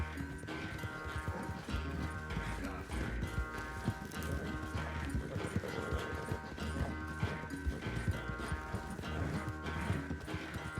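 Steady clip-clop of horse hooves at a running pace in Red Dead Redemption 2, loud and continuous, with a busy game backdrop and an occasional whinny.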